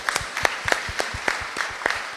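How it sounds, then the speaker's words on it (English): Applause for the winners of a Ministry of Education reading competition: a small group clapping at close range, with uneven individual claps standing out in a loose rhythm that lasts about two seconds. "So let's give them a round of applause for all the winners."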